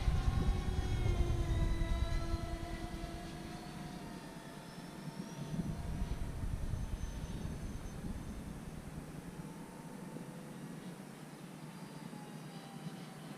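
An FMS A-10 Thunderbolt II 70mm EDF RC jet passes over a field with the throttle rolled back, its steady ducted-fan whine holding at moderate loudness and slowly shifting in pitch, with no talking.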